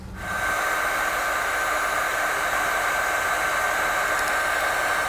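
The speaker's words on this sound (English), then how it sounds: "we're going to take a heat gun, we're going to seal up all of our connections" A heat gun sealing heat-shrink trailer wiring connections during a 2016 Chevrolet Colorado trailer connector installation, switching on and settling into a loud, steady blowing whine that holds constant, alone without talk.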